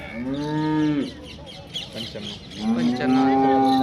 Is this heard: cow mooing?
yes